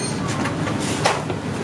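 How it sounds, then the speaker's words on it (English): A tram rolls along its rails with a steady low rumble and faint clatter of wheels, heard from inside the car. "On the tram now, heading back to Fuller's."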